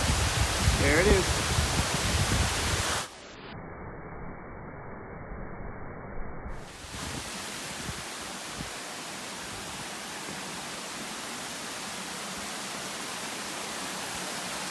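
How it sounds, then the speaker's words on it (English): A waterfall seen from a rock along a walking path, a broad steady roar that fills the clip, loud and close at first, then continuing slightly softer and even after a brief dip. "Over here so we can see the waterfall."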